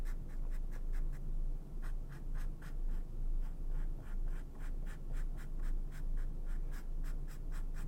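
A pen inks lettering on tracing paper in a quick run of short rhythmic scratching strokes, close and quiet, with no talking.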